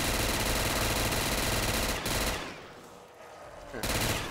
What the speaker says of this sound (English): Dude, the guns, man, are so loud